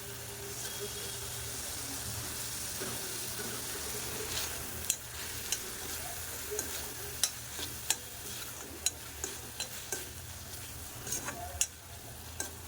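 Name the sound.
tomatoes frying in oil for drumstick curry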